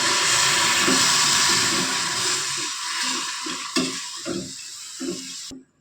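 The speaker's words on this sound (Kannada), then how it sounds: "ಬೆಲ್ಲ ಎಲ್ಲ ಸರಿಯತ್ತಾಗಿ ಕರಗಬೇಕು ನೋಡಿ ಈ ರೀತಿ ಬಬಲ್ಸ್ ಬರ್ಲಾಕ" A steady broadband hiss of jaggery melting in water, bubbling and simmering in a pan, with a few soft clinks of stirring near the end.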